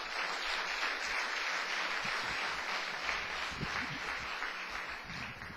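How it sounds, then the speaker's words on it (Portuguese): A congregation at a church service claps for the Lord in a sustained, dense round of applause that stays steady and loud throughout, with no voices over it. "Uma salva de palmas para o Senhor."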